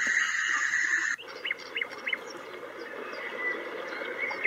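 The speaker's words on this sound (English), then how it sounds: "This is the sound of birds chiming also on trees and forests during the day" Several short bird chirps in a forest during the day, played from a white noise machine, ring out over a steady outdoor hiss, scattered across the clip at moderate distance.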